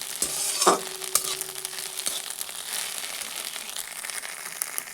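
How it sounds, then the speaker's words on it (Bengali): Fried egg in a pan being stirred and lifted out, giving a soft oil sizzle with scraping and clinks from the utensil, fairly close and steady over the five seconds, with no talking. "বন্ধুরা এখানে ডিম ভাজা হয়ে গেছে। এবার ডিমটা তুলে রেখে দেবো, ডিম ভাজাটা।"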